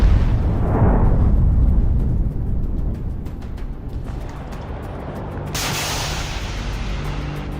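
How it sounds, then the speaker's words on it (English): Kornet anti-tank missile hitting a Bradley fighting vehicle: a loud, sustained roaring blast with rumbling low end and crackling debris, heard from a distance with no voices. "A second Kornet missile finally brings the vehicle to a halt."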